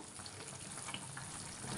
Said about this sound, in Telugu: నాకు గ్రేవీ కావాలని ఇంకొంచెం వాటర్ వేసాను నేను